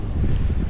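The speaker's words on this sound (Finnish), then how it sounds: "Kaduilla tuulee" Wind gusting along a street, a short burst of heavy rumbling wind buffeting the microphone, loud and close, with no voices.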